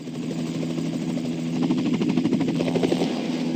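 A helicopter's engine drones steadily up close, its rotor chop growing more pronounced and slightly louder as it nears, with no talking.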